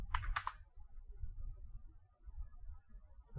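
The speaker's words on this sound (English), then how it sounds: "If I just go ahead and type Microsoft" A short burst of computer keyboard typing, several quick clustered keystrokes at the start, then a quiet low room hum.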